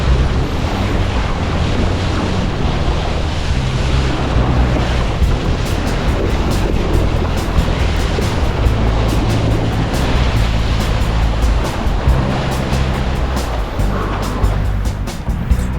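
Steady roar of ocean surf breaking on an empty beach at a kitesurfing point, loud and continuous throughout with wind buffeting the microphone.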